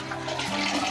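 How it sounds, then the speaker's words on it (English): A household toilet flushing, a short rush of swirling water heard close and alone without any voices. "being able to flush the toilet and to know that it was going where it was supposed to go"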